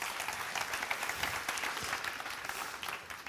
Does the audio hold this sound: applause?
yes